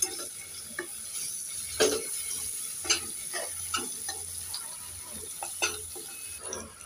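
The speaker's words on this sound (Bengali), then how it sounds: "এখন আমি একটু নেড়ে চেড়ে দিয়ে দেব।" Ginger-garlic, cumin and coriander paste fries quietly in a pan for a prawn curry, with a soft steady sizzle broken by several clicks and scrapes as it is stirred.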